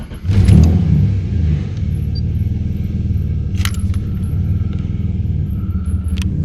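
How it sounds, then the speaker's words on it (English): A cheap Ford EF XR6 cranks and fires after a budget tune, settling into a steady, loud low idle rumble close by, with a couple of faint metallic clinks on top and no talking. "Let's see if the car will even start."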